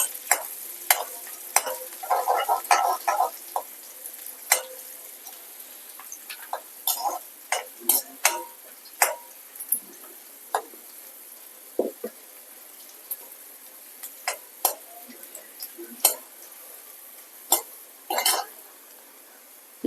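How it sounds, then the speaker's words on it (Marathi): Green chillies sautéing in a pan for Punjabi kadhi pakoda: a soft, steady sizzle under scattered sharp clicks and taps of stirring, close and moderate in level throughout. "हिरवी मिरची हे थोडस थोडस परतून घेऊया जरा"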